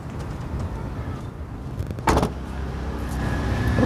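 Rear tailgate of a 2013 Toyota Avanza 1.5 G manual being shut, a single sharp thud midway through, with low ambient rumble before and after.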